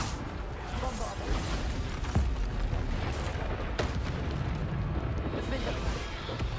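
Bombarda explosion spell in the video game Hogwarts Legacy, booming blasts over a busy rumbling battle with repeated impacts, heard beneath speech.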